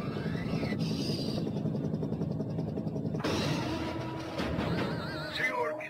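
A military helicopter thumps with a low rotor rumble, changing texture as the scene cuts, set in a film version of Street Fighter II near the Thai-Laos border.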